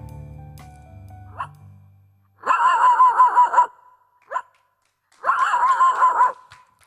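A voice imitates street dogs howling in the distance, two drawn-out wavering howls separated by short yelps, after a low hum fades out.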